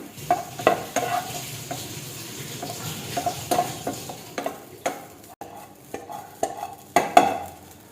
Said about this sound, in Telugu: దీంట్లో ఆల్రెడీ కొంచెం గీ ఉంది, సో కొంచెం జస్ట్ అలా ఫ్రై చేసేస్తున్నా